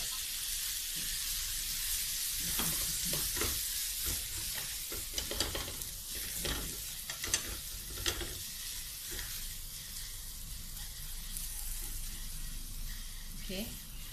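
Palm sugar and fish sauce sizzle and bubble in a hot pan while being stirred for a Thai pork crackling chili paste, a soft hiss with irregular scraping strokes throughout.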